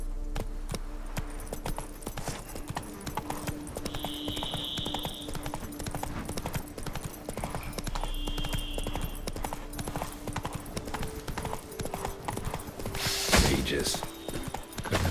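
Horse hooves gallop in a steady clip-clop rhythm throughout in The Witcher 3 Wild Hunt: Blood and Wine, with a brief loud burst near the end and a faint whinny-like tone, under game ambience.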